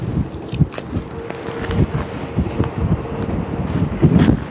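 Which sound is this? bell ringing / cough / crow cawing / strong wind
strong wind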